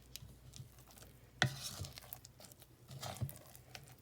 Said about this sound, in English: So we'll just fold this in.